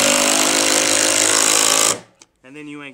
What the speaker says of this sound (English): I drill that out, pop my screw chuck back in there, and then I can screw this screw in.